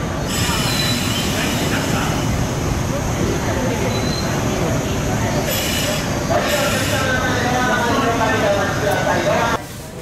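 A Series 189 train rolls into a station with squealing wheels and rumbling cars, steady and loud, while a Japanese platform announcement for platform 12 plays over it.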